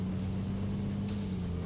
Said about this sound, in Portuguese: Caminhão lento da porra